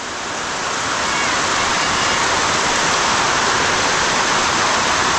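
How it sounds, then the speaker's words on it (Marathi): Heavy rain pours down steadily in a village, a dense, loud, unbroken hiss of water on surfaces that holds constant from start to finish with no voices. "पाऊस नव्हता आता मात्र जोरदार आला आहे जोरदार म्हणजे भयंकरच आला आहे"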